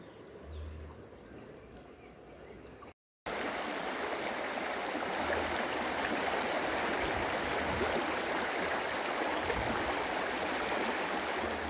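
Río Grande river in El Paraíso at the start of winter, water flowing in a steady, continuous rushing wash, close and even, after a brief quiet gap near the start.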